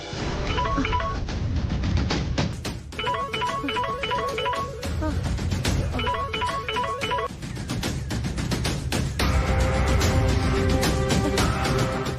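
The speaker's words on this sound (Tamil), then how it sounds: "இந்தாங்கக்கா ஃபோன் அடிக்குது பாருங்க" A mobile phone rings with a repeating electronic melody in bursts, loud and close, amid a busy household scene with background noise.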